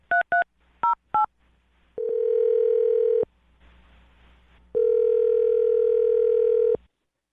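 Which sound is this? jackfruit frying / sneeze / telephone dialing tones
telephone dialing tones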